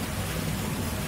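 Rain falling outdoors while a kitten meets its first rainfall: a steady, even hiss of downpour with no talking, holding at a constant level throughout.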